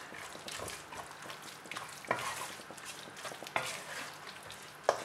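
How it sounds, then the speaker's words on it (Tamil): Tomato masala with coriander powder cooks in oil for tomato rice, giving a soft, steady sizzle with a few sharp scrapes of the spoon. The sound is quiet and close. "இப்போது நல்லா கலரி விட்டு எண்ணெய் பிரிகிற வரைக்கும் இதை வந்து நல்லா குக் பண்ணணும்."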